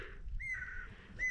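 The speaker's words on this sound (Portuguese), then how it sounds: "Ouvindo os passarinhos cantar." Birds by a lake at a fishing spot give a few faint, thin whistled calls over low outdoor rumble, distant and soft.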